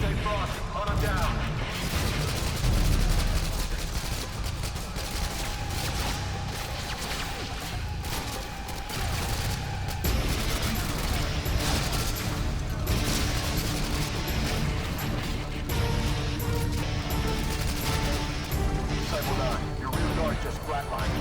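Dense, continuous gunfire and crashing battle noise from Call of Duty: Modern Warfare 2 roll on without pause, with soldiers' voices shouting over the firefight.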